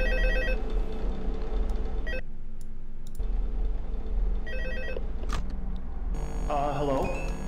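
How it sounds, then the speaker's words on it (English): A telephone rings repeatedly in the Five Nights with the Toys horror video game, with regular bursts of an electronic ringtone between pauses, loud and close over a low background hum. "phone call."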